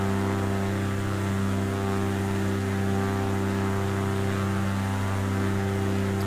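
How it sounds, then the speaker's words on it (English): Steady propeller drone and engine hum from an Alabeo Titan twin-engine airplane in a flight simulator game, flying past in the Samoa scenery; a constant, even tone throughout with no talking. "So just basically doing a little bit of a flyby here. And as you can see, this is the Alabeo Titan, which is a lovely airplane."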